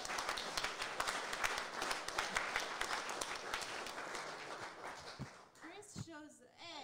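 An audience claps at a songwriter round at a winery, a dense, steady patter of many hands that thins out toward the end as a voice begins speaking over it.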